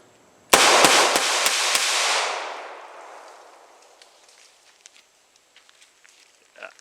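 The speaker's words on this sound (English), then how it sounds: "Again, it's gonna be 5 rounds, pretty much as fast as I can squeeze them off." Five rapid revolver shots from a Smith and Wesson 437 Airweight ring out close and loud in quick succession at an outdoor range, followed by a fading echo and a few faint clicks and handling noises.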